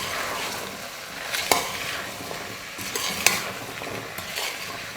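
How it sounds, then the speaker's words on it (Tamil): Mixed vegetables and green peas sautéing in oil in a pan for vegetable biryani, a steady close sizzle with scraping stir strokes and a couple of sharp spoon clinks, no talk. "எல்லா காய்களையும் சேர்த்ததுக்கப்புறமா ஒரு 2 நிமிஷம் நம்ம எண்ணெயிலே நல்லா வதக்கி விட்டுக்கலாம்"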